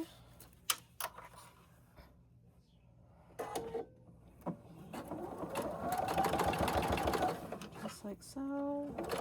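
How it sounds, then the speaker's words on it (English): A sewing machine top-stitches the edge of a small fabric travel case, a close rapid mechanical chatter that builds into a steady run, with a person speaking quietly around it and a few handling clicks. "And we're going to top stitch that edge."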